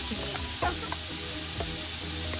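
Onions fry in a pan for squash stew in coconut milk, spitting and splattering loudly as leftover water hits the hot oil. The sizzle is close and steady, with scattered pops and a few stirring clacks.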